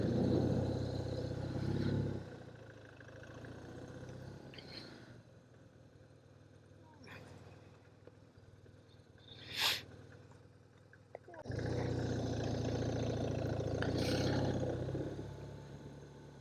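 A motorcycle engine runs steadily during a ride, loud and continuous at the start, easing to a quieter drone in the middle, then swelling back up near the end, with no talking.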